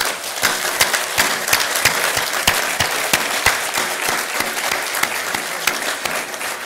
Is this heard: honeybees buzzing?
no